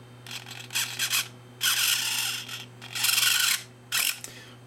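Small servo driving an aileron linkage on a model aircraft, giving short buzzing whirs in several bursts of varying length, close and fairly loud over a steady low hum.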